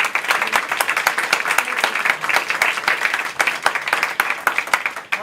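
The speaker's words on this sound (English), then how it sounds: "Can we give another round of applause for our reading?" An audience applauds after a play reading with dense, continuous clapping from a room full of people, steady and fairly close for the whole stretch.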